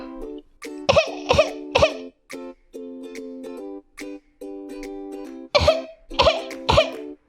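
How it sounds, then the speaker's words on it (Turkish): Repeated short coughs, some voiced and toy-like, come in clusters during a pretend doctor game played with a Princess Sofia toy, close and clear between brief tonal sounds. "Evet öksür bakalım."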